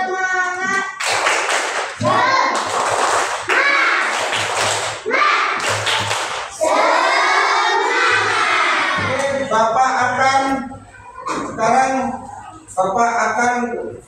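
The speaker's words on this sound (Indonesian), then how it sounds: "Ayo, tepuk semangat." Schoolchildren in an Indonesian classroom perform a rhythmic 'tepuk semangat' clapping chant, with loud chanted voices and bursts of patterned clapping in a steady group rhythm close by, and a teacher's voice calling between.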